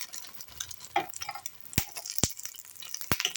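Minced meat cutlets frying in plenty of oil in a pan, a soft continuous sizzle broken by a few sharp clicks and scrapes as they are flipped over; no voices.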